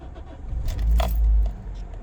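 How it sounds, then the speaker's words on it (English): A Toyota Celica 1.8 T-Sport with engine management, VSC and TRC warning faults, keys jangling in the ignition as the engine cranks and catches, a low rumbling surge close by and with no talk. "Also when you start the car up"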